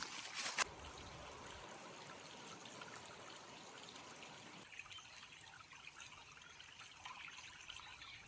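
A small forest waterfall trickling and splashing steadily, quiet and fairly distant, with a short louder splash near the start.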